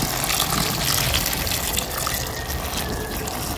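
Hot water pours steadily into a cooking pot for Filipino vegetable soup, a loud, close, continuous gushing splash with no voices.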